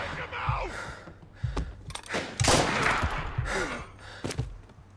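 Scattered gunshots in Mafia Definitive Edition, a crime shooter: a few sharp, fairly distant cracks mixed with heavy breathing and game ambience, fading in and out.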